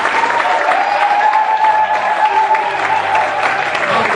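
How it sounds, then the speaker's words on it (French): A church congregation claps together in sustained, loud applause during a worship service, a dense steady wash of hands with faint voices mixed in. "Applaudissez le Seigneur pour les chants"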